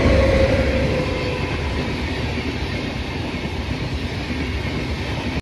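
A train at Kankavli railway station rumbles loudly and steadily, a dense low roar with faint rattling that carries on unbroken, then cuts off abruptly.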